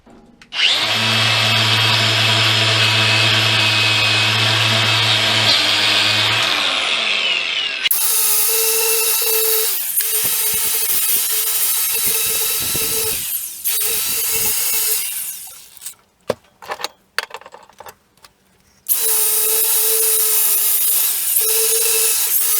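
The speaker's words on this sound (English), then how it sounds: "let me chuck that thing in this vise here and start wire wheeling on it" A wire wheel on a power tool spins up and brushes a car's lower suspension control arm clamped in a vise, a loud, harsh, steady scrubbing with a few pauses and restarts, close by.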